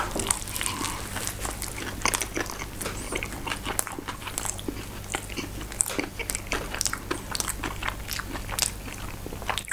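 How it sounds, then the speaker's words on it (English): Burger being bitten and chewed close up, a steady stream of crisp crunches and wet chewing bursts repeating through the whole stretch with no talking. "Let's taste this burger."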